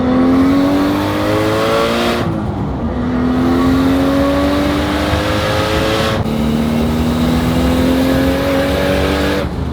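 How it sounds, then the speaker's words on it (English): A Nissan Skyline R33 accelerates hard through the gears, a loud, close engine note climbing steadily in pitch, cutting briefly at each shift and then climbing again, with no talk over it. "The first JDM car on the channel is an R33, and this thing absolutely sounds insane."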